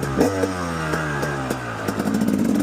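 A KTM 250 EXC dirt bike runs close and loud, its engine note rising and dropping as it pulls away and shifts through the gears, with light mechanical clatter.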